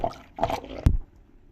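Curd and water are churned together for kadhi, giving a few short sloshing swishes followed by a sharp knock of the churner against the vessel, then quiet.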